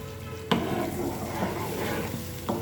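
Spice paste and water sizzle in a frying pan with a steady, close hiss, broken by a couple of sharp stirring clinks against the pan.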